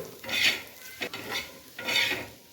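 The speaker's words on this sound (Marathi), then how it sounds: "हे अशी मिरची लसणाची बमलाची लालसर झाली चांगलं तेलामध्ये खरपूस अशी भाजायची" Chillies and garlic fry in hot oil while being stirred, with bursts of crackling sizzle and scraping strokes of a spatula against the pan in a loose rhythm, heard close and alone.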